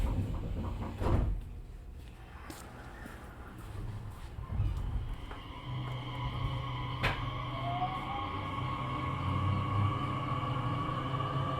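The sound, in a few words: Nishitetsu 3000 series train doors closing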